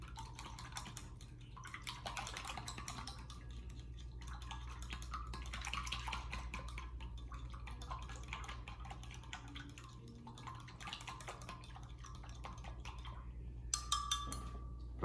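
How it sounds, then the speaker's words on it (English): A cleaning solution is stirred in a container, soft rhythmic swishing and faint clinks of utensil against the vessel, repeating in quiet waves and closing with a few sharper taps. "Now I'm going to stir it"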